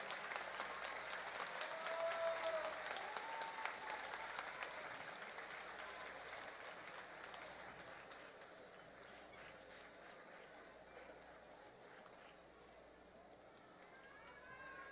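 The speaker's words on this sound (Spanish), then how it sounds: "Fuerte el aplauso para ellos." Audience at a scholarship card ceremony for schoolchildren claps warmly for a student and parent, a fairly quiet, steady applause lasting several seconds with faint voices and a brief whistle-like tone mixed in.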